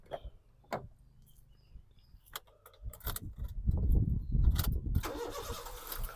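Keys jangle and click, then a 2006 Honda City ZX engine cranks and catches on the first try, settling into a running idle nearby.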